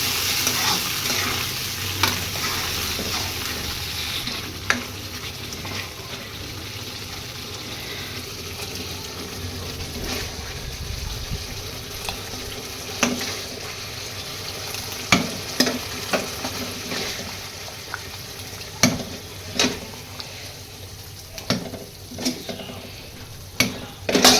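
Moong dal khichdi is stirred in a pot over a low sizzle, with a spoon scraping and knocking against the metal in sharp, irregular clinks that come more often toward the end.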